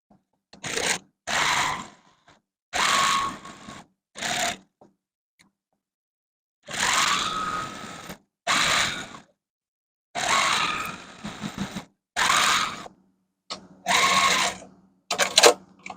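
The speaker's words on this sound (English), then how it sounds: "we're going to go back to the machine, like I said, and we're going to stitch 1/4 of an inch all the way around" A sewing machine stitches a quarter-inch seam around a fabric Halloween trick-or-treat bag in several loud, close bursts of rapid whirring, separated by short silent pauses.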